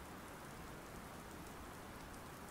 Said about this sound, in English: There is a little drizzle in the air